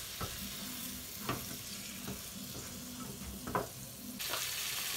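Food frying in a home kitchen pan gives a steady, moderate sizzle, broken by a few soft clinks and stirring knocks, with no talking.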